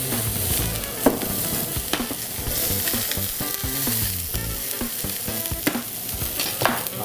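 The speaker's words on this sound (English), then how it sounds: "Let's press the fish down into the pan. That nice even sear here." Fish sears in a hot pan, a loud, steady sizzle and crackle with occasional sharp pops and scraping, close up with no talking.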